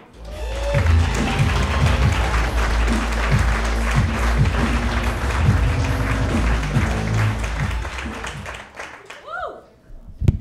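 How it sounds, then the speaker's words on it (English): Comedy club crowd applauding a stand-up comic onto the stage, a dense burst of clapping with scattered whoops and cheers that rises quickly, holds, then tapers off as a voice begins. "a big round of applause for Sayrie"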